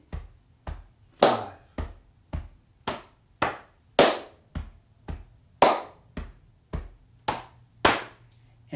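Crisp hand claps and pats in a repeating rhythmic pattern, a steady sequence of sharp close strikes with brighter claps standing out among softer pats, no voices.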